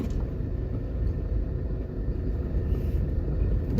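A car driving along Ring Road on the UWI Mona campus in Jamaica, heard from inside as a steady, loud low engine and road rumble without a break.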